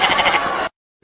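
A goat gives one short, loud, wavering bleat up close, cutting off abruptly into silence.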